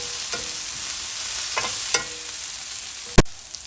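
Onions frying and just starting to brown in a pan give a steady, close hiss. A few soft scrapes break through the sizzle, and one sharp knock comes near the end.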